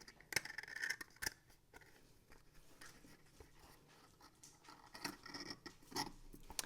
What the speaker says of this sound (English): So you just kind of fold this into itself, and then you'll close the top and the bottom.